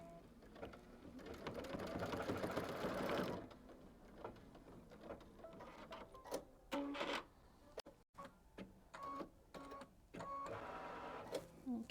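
A home embroidery machine stitching a quilt block in the hoop, a steady close mechanical whir at first, then a choppier pattern of clicks, taps and short stitching bursts.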